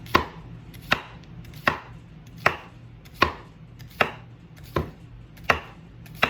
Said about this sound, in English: Okay, so your onions should look similar to this. We're just going to chop them up.